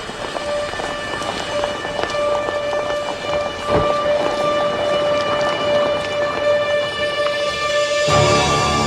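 Train on the move in the 1930s, a steady rolling rumble with rhythmic rail clatter and a sustained whistle-like tone, loud and close throughout with no talk.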